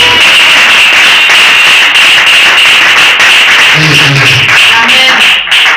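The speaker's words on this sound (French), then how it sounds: "Les acclamations pour Jésus." A church congregation claps and acclaims Jesus during a spiritual program, a loud and steady wash of clapping and crowd noise, with voices mixed in across the whole stretch.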